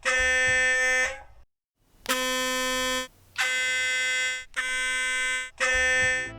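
A harsh, buzzing sonic toothbrush tone with strong harmonics sounds in four or five bursts of about a second each, separated by short pauses, recorded inside a washing machine drum, muffled and resonant.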